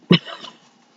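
A neighbour's dog gives a single short bark or yip indoors, loud and abrupt, then fades quickly into quiet room tone.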